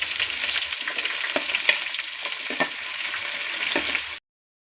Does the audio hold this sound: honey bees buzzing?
no